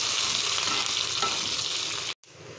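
Onion, curry leaves and chili frying in hot oil in a pan, a close dense sizzle that cuts out abruptly for a moment before resuming.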